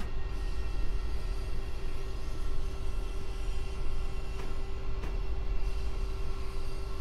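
A green V-IRM train in a video game rolls past with a steady, broad rumble and a constant tonal hum, close and even throughout, with a couple of brief clanks and no voices.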